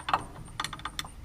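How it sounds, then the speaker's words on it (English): Quick ratcheting clicks in short separate bursts as the shutoff solenoid is unbolted from a wood chipper engine, close and fairly quiet, with no talking. "I'm gonna take the shutoff solenoid out."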